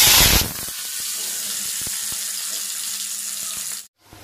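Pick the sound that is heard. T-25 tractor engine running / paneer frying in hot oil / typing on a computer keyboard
paneer frying in hot oil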